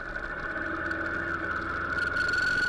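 A motorcycle engine drones steadily while riding through residential streets deep in Queens, its tone holding level with a strong sustained hum and slight swells toward the end.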